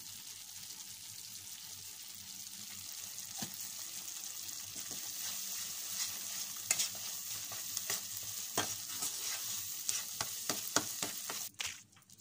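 Sweet boondi for ladoo cooking in ghee in a pan, a steady bright frying hiss with occasional stirring clicks and scrapes, close and continuous, ending with a few sharper clatters.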